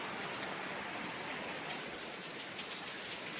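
Steady rain falls in a village, an even broadband hiss of drops on surfaces with no pauses, moderately loud and without voices.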